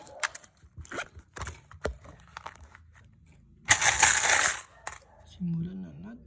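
Coins are handled and dropped during a hunt through loose change: scattered sharp metallic clinks and taps, then a longer dense jingle of coins sliding together, close up, with a voice briefly heard near the end.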